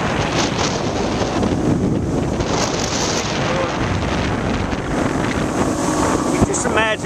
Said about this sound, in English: Got a little family out there doing a little stroll in their boat